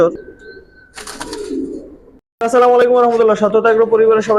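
Pigeons cooing in a loft, close and loud, with wing rustles early on, a brief silence, then a strong run of layered coos and calls.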